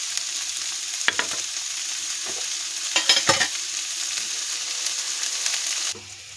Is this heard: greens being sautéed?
yes